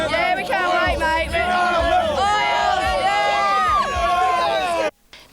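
Fans at a 1990 rock concert roar and cheer in a dense, loud crowd din with shouting and chanting, ending abruptly in a brief cut to silence.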